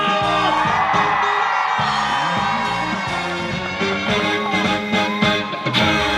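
Live festival crowd at a Hongdae street stage cheering, whooping and clapping loudly and steadily throughout, with music and a voice over the crowd noise.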